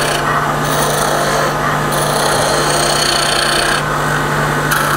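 A skew chisel cuts a spinning wood blank on a lathe, a loud continuous rasping shave over the steady hum of the lathe motor, rising and easing in a few passes.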